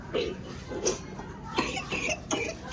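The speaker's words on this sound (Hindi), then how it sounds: "खांसी हो गई है क्या?" Several short coughs sound at intervals over a murmur of talk in a room.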